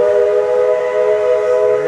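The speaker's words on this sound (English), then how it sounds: "There's the whistle." A Walt Disney World Railroad steam train at Magic Kingdom sounds a loud, steady whistle that holds for about two seconds, rich and layered with a faint rumble beneath it.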